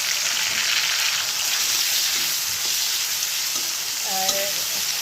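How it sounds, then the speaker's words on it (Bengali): Tomato added to lightly fried onions in a hot pan for a fish recipe: a loud, steady sizzle and frying hiss that runs throughout, with a brief clink of a utensil near the end and no speech. "এই মুহূর্তে আমি হচ্ছে টমেটোটা দিয়ে দিচ্ছি।"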